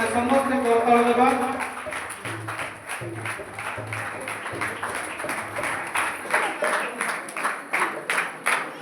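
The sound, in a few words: congregation applauding to welcome a guest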